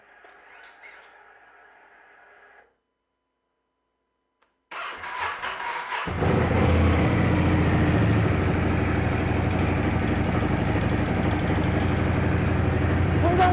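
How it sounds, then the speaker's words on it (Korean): A 2019 Ducati Scrambler 1100 Sport with its stock muffler cranks, catches and settles into a steady, loud idle after a short silence, the twin's exhaust rumble continuous and close. "순정 머플러의 배기 사운드 한번 들어보고요"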